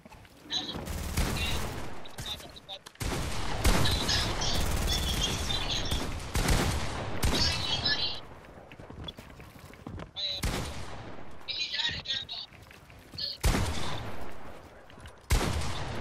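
Pump shotgun and other gunfire in Fortnite, repeated loud bursts of shots in clusters with brief gaps, heavy and close, with some game effects mixed in.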